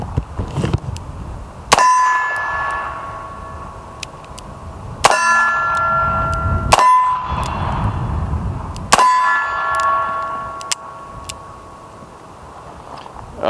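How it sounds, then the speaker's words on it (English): A Smython .357 Magnum revolver on a shooting range gives four sharp, loud metallic cracks spaced a few seconds apart, each followed by a ringing tone that dies away, over faint background noise. "now we'll be taking our first shots with the Smython"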